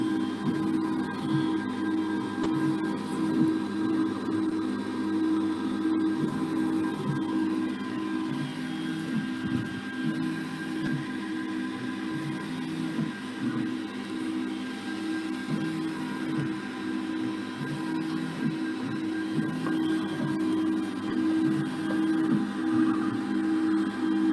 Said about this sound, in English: Once the nozzles are clean, printing will be started.